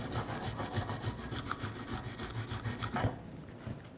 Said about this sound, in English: Take a wire brush and just clean up this area.